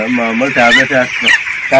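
Broiler chickens on a poultry farm cluck and call in a steady, close chorus of repeated bird vocalizations, loud and continuous throughout.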